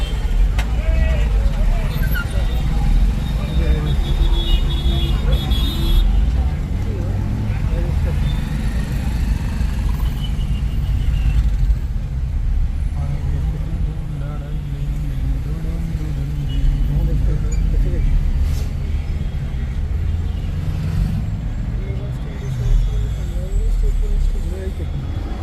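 Car interior on the drive back from the parking area at Sinhagad Fort near Pune, with a steady low road rumble and engine hum continuing throughout, voices talking over it.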